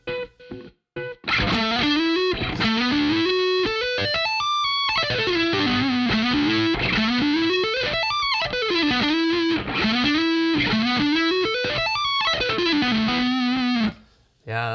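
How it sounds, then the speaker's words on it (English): An electric guitar solo plays through effects and heavy distortion, with sweeping bends and fast runs that swoop up and down. It is loud and continuous, then drops out briefly near the end. "that's a tremendously difficult solo"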